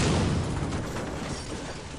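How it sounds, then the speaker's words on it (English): A particle explosion in the adventure game Escape from Monkey Island erupts as a loud, dense burst of noise that fills the whole clip and slowly tapers off without a break. "Oh, impressive particle explosion."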